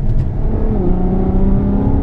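A 2014 Ferrari F12 Berlinetta engine under way, a loud, steady low drone with rising tonal whine as the car accelerates, close and continuous with no talk.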